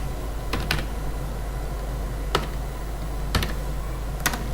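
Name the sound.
typing a captcha on a computer keyboard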